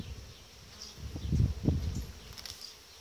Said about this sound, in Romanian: E o familie creată anul ăsta, tânără, plină cu albina